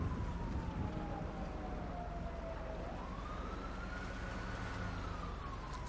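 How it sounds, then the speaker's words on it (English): An ambulance siren in Grand Theft Auto 5 wails with a long falling tone, then rises again as the vehicle comes closer across a bridge, over a continuous low background rumble. "I think I could see the ambulance coming across the bridge."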